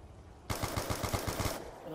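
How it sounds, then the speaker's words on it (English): Pistol fire in Black Ops 2 Zombies, a quick run of about nine close, loud shots in an even rhythm lasting about a second, after a quiet lead-in. "I am just pistoling these guys up"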